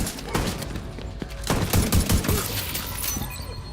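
Rapid gunfire from a firefight in the video game The Division 2, dense bursts of shots with sharp cracks and low booms rolling together, loud and close, a heavier cluster in the middle of the stretch.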